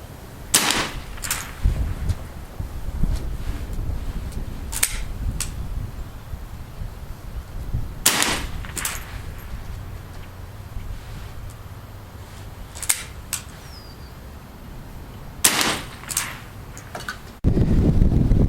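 Aguila Sniper Subsonic 60 grain rounds fired outdoors in field testing, several sharp, loud reports spaced seconds apart over steady wind noise and rustling, with a final abrupt jolt at the end.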